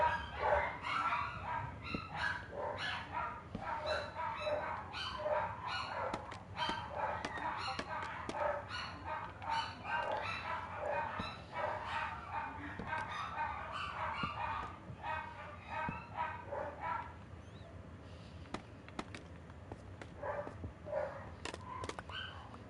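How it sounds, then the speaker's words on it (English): Several dogs bark and yip in a dense, continuous, excited chorus, loud and close, going on for over twenty seconds before thinning toward the end. "Stinking dogs."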